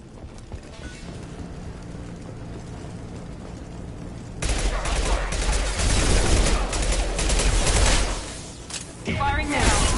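Sustained bursts of gunfire in the video game Mass Effect, with Blue Suns and Blood Pack mercenaries firing; the shooting starts partway through and stays loud and dense, with speech underneath.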